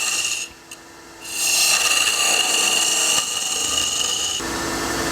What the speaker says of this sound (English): We'll now start up our lathe and cut a half cove like so.